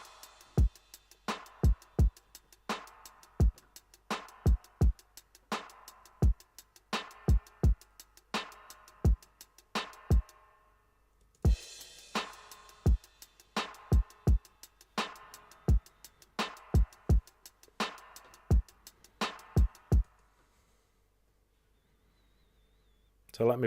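Dub-style drum intro loop for a dubwise drum and bass track: sharp, punchy kicks and snares in a steady syncopated pattern with echoing hits. It repeats for about twenty seconds, stops briefly midway, then ends in near silence.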